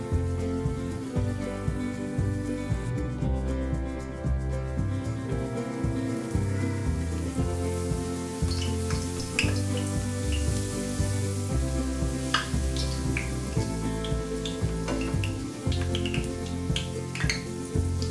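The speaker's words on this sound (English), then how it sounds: "You can check with a small piece of dough ball whether the oil is done or not." A small ball of bhatura dough fries in hot oil, giving a steady, close crackling sizzle with scattered sharp pops throughout, partly under background music.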